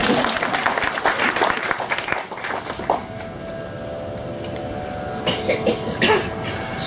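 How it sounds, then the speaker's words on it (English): An audience claps together at a classical Indian music performance, a dense continuous patter of applause that fades out midway, leaving room tone and a faint sustained tone. "Here you can clap."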